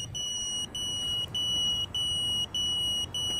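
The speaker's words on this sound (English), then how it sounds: "So we're getting some buzzer with it now." Repeated high-pitched beeping from the low-battery buzzer on a Mantis 85 FPV drone flown on a 3S battery, sounding in steady pulses with short gaps over a low background rumble.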